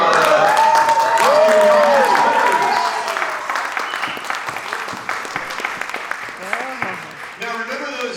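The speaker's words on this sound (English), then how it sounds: "So applause for our dance, for our" A stage audience applauds a dance number, with a burst of clapping that fades under an amplified voice talking and a few scattered claps continuing behind it.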